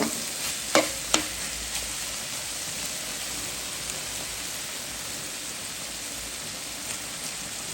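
Yardlong bean bhaji stir-frying in a pan, a steady soft sizzle with a couple of sharp utensil scrapes near the start, close and continuous with no talk.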